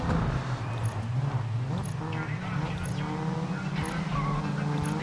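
Racing cars in GRID Legends, with a steady engine drone and a tyre-scrape jolt as one car lightly bumps another, loud and continuous, under a voice.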